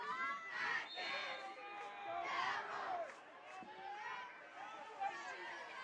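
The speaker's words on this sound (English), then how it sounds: "Cheerleaders getting this visitor crowd fired up." Visiting fans at a high school football playoff game cheer and shout in a continuous crowd roar, whipped up by cheerleaders, heard from a distance at a moderate level.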